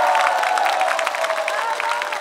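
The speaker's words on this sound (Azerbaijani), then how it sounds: "Buna görə bir alqışlayaq onları zəhmət olmasa." Applause and cheering rise from a studio audience at a masked-singer television show, a dense, steady wash of many hands clapping that holds at an even level throughout.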